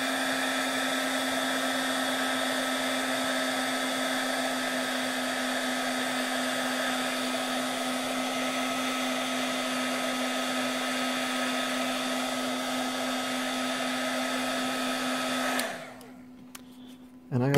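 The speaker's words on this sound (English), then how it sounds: "So I'm going to use a heat gun." A heat gun running continuously on soldered electronics for a speed controller build, a steady loud whirring blower drone with a constant hum that cuts off abruptly near the end.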